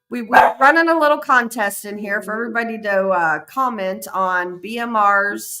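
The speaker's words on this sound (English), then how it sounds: "Sorry about the dog." Pet dog barking indoors during a live talk stream, a few sharp barks near the start and scattered later, mostly buried under continuous close male speech.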